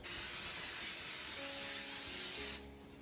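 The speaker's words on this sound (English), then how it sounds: "we're just going to add some cooking spray first" A close, continuous hiss from an aerosol can sprays for about two and a half seconds, then cuts off, leaving faint background hum.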